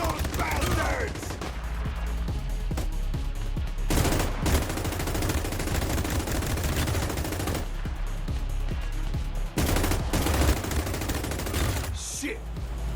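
Sustained rapid gunfire and bursts of automatic weapons fill a Garena Free City open-world shooter match, loud and dense throughout with brief pauses, mixed with game effects.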